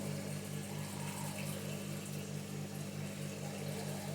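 Warm water runs and pours steadily over goat meat being washed for okra and egusi soup, a continuous low rushing stream with a faint pump-like hum and no talking.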